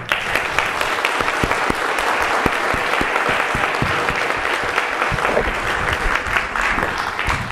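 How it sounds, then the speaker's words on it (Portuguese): A church audience applauds strongly for the band that just played, sustained close clapping with sharp individual claps standing out throughout. "Que a gente bata uma salva de palmas forte para a banda que tocou aqui para a gente,"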